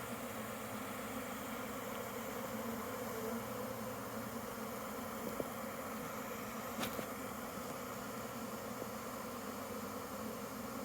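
A spring swarm of honeybees in Michigan hums as a steady, dense drone, continuous and fairly faint, with no voices and only a couple of small clicks nearby.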